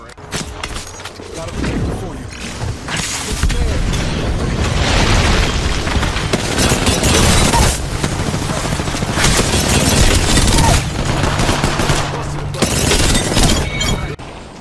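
Apex Legends gunfire: dense bursts of automatic shots and booming impacts rattle almost continuously, loud and close, with a player talking over the fight.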